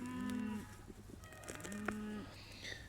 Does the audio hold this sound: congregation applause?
no